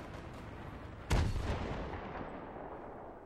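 In a video game, a tank cannon fires a single sharp, heavy boom partway through, followed by a long rumbling decay over a steady low background rumble.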